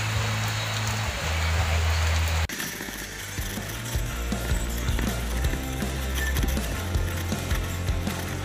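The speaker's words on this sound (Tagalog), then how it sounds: "Ayun, nabutan ulit kami ng ulan eh." Heavy rain pours during a motorcycle ride near the Eastridge area of Binangonan, Rizal. A steady wash of rain and wind noise hits a helmet camera, with an abrupt shift in tone partway through and scattered ticking patter afterward.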